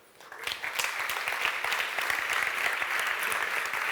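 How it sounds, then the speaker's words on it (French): A crowd at an awards ceremony breaks into sustained applause, rising quickly and holding as a steady, dense wash of many clapping hands throughout. "on peut les applaudir"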